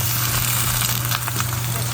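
German cabbage rolls sear in a pan under a splatter screen, giving a loud, dense, continuous sizzle with a faint low hum beneath.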